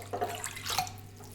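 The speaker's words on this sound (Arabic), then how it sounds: "نضيفو الكيلو تاع الماء" Water poured into a bowl holding a dough mixture of oil for coca pizza, a soft splashing trickle that swells twice in short bursts, close and fairly quiet.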